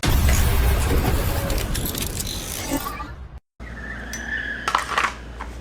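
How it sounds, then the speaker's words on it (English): A car doing burnouts outdoors, heard from indoors as a loud, sustained roar with screeching, fading out, then a few fainter rattles and revving bursts. "Someone's doing burnouts out there."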